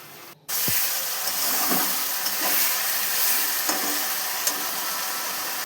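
A paste of tomato, ginger, garlic and green chilli hits hot oil with frying onions, letting off a loud, steady sizzle and hiss, broken by a few soft scrapes of stirring.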